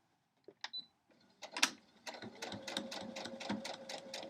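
A sewing machine stitches a crumb block quilt in quick, faint, rhythmic clatter after a few brief handling clicks, close and quiet with no voices.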